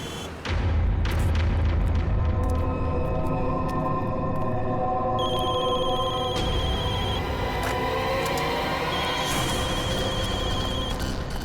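Telephones ringing insistently over one another in a TV crime drama scene, a dense, loud layer of electronic ring tones with a deep boom at the start.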